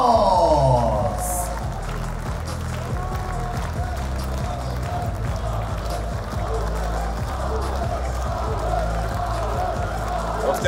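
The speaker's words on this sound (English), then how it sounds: "Los Desperados enjoying the applause as they pick up those coins from the canvas" Wrestling arena crowd applauding tag team Los Desperados at the wXw World Tag Team Festival 2024, a sustained bed of clapping and cheering from a large audience, with music-like tones and a voice early on.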